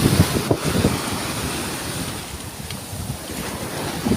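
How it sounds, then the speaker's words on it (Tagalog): Sea waves wash and churn beneath strong, gusty wind buffeting the microphone. "ito nga pala yung dagat. Maalon."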